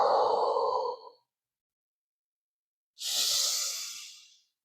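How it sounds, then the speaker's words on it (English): A deep, breathy yoga exhale rushes out close to the ear and stops, followed after a pause by a second long, airy breath that fades away, with no speech. "Exhale."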